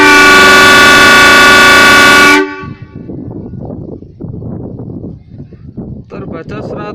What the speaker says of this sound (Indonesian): ini saya akan mengetes kebisingan dari klakson lokomotif PVC CC201